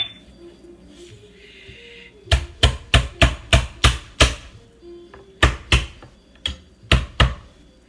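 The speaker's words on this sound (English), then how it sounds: "we're mashing garlic here" Garlic being mashed and chopped on a board in a home kitchen, a rapid series of about a dozen sharp knocks in two quick clusters, close and loud with a quiet background and no talk.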